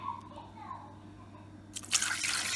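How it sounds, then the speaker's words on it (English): Faint quiet clinks give way to a sudden hissing rush of water pouring into a pot near the end. "Then I'm going to add water."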